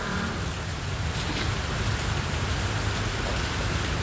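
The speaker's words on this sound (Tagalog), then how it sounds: "Hindi na ako pupunta ng hypermarket kasi sobrang lakas ng ulan oh" Heavy rain pours down steadily in a dense, even hiss with no breaks, loud and close, with no one speaking.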